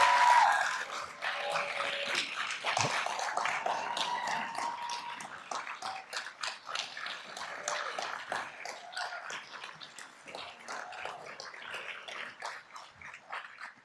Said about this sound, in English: So maybe you could give them a round of applause